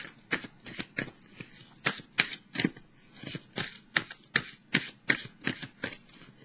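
Tarot cards are shuffled by hand in quick, crisp riffling bursts, a dense run of close papery flicks and snaps with no voice over them.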